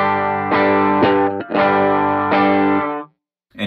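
Electric guitar played clean through a Strymon Iridium amp modeler on a worship pedalboard: sustained chords strummed several times in a steady rhythm, close and loud, with no talking, then a quick fade to silence.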